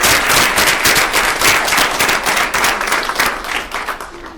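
Applause at a school district board meeting: a room of people clapping in sharp, dense bursts that hold steady and then thin toward the end.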